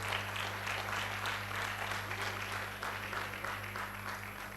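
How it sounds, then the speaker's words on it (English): Steady audience applause at a medical laboratory science induction ceremony, a fairly faint but continuous wash of many hands clapping, with a constant electrical hum underneath. "I can see that the applause is getting louder."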